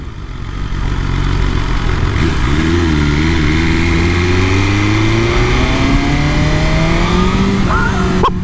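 A 2023 BMW S1000RR sport bike with stage 1 flashed tune revs loudly up through rising tones while riding, heard close and continuous with wind rush.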